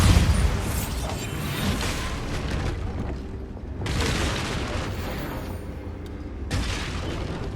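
Bombarda blasting spell in the Hogwarts Legacy video game, three loud booming explosions spaced a few seconds apart, each followed by rumbling, crumbling debris.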